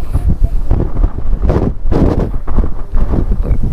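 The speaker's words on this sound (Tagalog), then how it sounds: "Ang lakas ng hangin." Strong afternoon wind buffets the microphone in San Nicolas, Pangasinan, a loud continuous rumbling roar with gusty swells and no voices.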